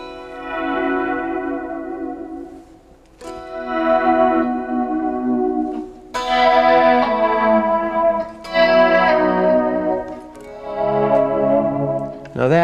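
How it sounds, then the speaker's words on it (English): Electric guitar played in sustained, swelling notes with ethereal delay and reverb, several rich chords blooming and overlapping across the passage, fairly loud and alone with no talking. "I do a lot of things, ethereal effects with delays and similar type sounds."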